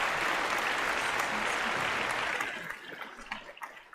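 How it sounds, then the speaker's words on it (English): Studio audience applause, a dense wash of clapping that holds steady and then thins out and fades toward the end, with a few scattered claps trailing off. "another round of applause for Leslie."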